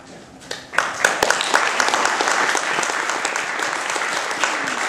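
Audience applause at a political rally breaks out after a quiet moment and swells into sustained, dense clapping from a large crowd, loud and continuous to the end.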